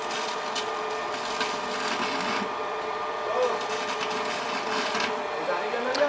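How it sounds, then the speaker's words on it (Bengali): A Boss MMA 350A arc welding machine welding on its lowest setting gives a steady crackling buzz that runs on without a break, with a voice speaking over it. "দেখতে পাচ্ছেন একদম লোতে ওয়েল্ডিংটা হইতেছে।"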